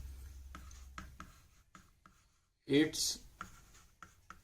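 Pen scratching on paper while a maths solution about a rectangular garden is written out, soft intermittent strokes under a man's quiet speech, with one brief louder scrape.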